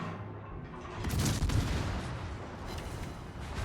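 Heavy warship guns from the German battleship Schlieffen firing in World of Warships, a rolling burst of booms swelling mid-clip and trailing into a rumbling decay, no voices over it.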